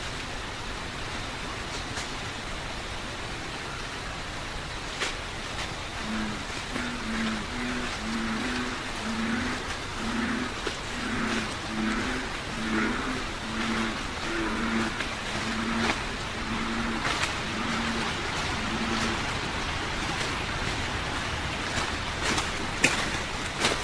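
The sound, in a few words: bipedal footsteps at night with bullfrogs croaking, field recording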